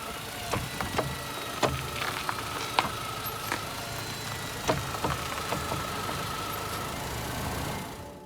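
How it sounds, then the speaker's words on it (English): Notching and knocking from the front suspension of a 2006 Mini One with a broken top mount as the wheel is turned, a series of irregular clunks and creaks over a low engine idle, close and fairly loud. "whenever you turn the wheel it would like notch and sound really horrible"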